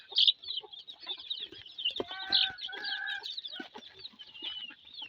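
Silkie and Brahma chickens and chicks cluck and peep at a fancy poultry farm, a close chorus of high chirps with a few louder hen calls in the middle.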